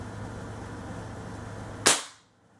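A Crosman 160 pellet gun with an upgraded valve fires a single sharp crack close by, cutting through a low steady hum and ringing off briefly before near silence.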